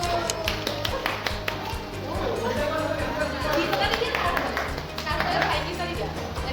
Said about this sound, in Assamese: সবে তালি বজোৱা।